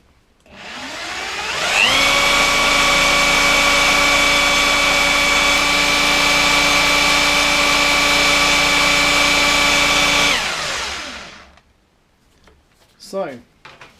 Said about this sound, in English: do the same thing with a faster drill